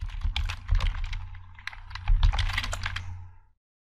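Computer keyboard typing Python code into a Jupyter Notebook cell: a steady run of close, crisp key clicks with two louder bursts, over a low background hum, no voices.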